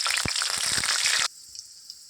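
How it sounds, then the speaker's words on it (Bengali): Black cumin and two dried red chillies hit hot oil with a loud, bright sizzle and a few pops, cutting off abruptly partway through to a quiet hiss. "তেল দিয়ে দেব কালো জিরা আর দুটো শুকনো লঙ্কা।"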